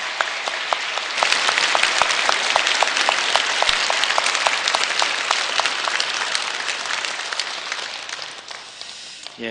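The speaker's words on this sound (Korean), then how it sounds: "우리 한번 같이 박수를 좀 드렸으면 좋겠습니다" A church congregation applauds on Christmas morning after a choir and chamber ensemble performance, a broad, sustained wash of clapping that rises after a second and continues steadily for several seconds before fading.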